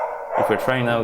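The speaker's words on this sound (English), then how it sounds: "you can probably hear the dog barking." A neighbour's excited dog barks and yips in a quick run of calls, heard indoors behind someone speaking over it.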